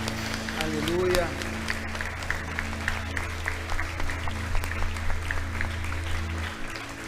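Church congregation applauding during a service, steady crowd clapping with a sustained low organ or keyboard tone underneath and some voices mixed in, fairly loud and continuous throughout.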